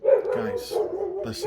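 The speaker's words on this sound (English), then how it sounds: "sorry about the dogs." Dogs bark and yip close by indoors, a few sharp barks breaking out between bursts of someone talking over them.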